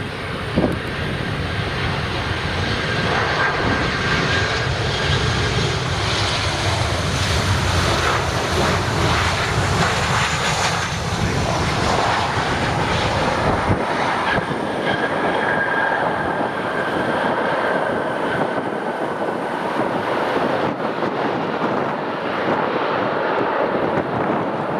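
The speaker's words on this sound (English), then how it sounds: "Southwest Flight 375 coming in from Fort Lauderdale." A Southwest airliner arrives at Austin-Bergstrom International Airport on a gusty day, its broad engine roar loud and steady throughout, easing slightly near the end with wind rumble mixed in.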